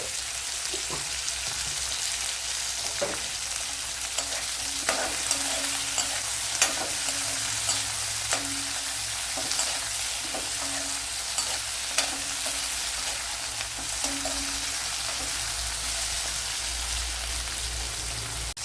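Half a teaspoon of cumin seeds frying in hot oil, a steady dense crackling sizzle throughout with scattered small pops and faint utensil taps, no talking.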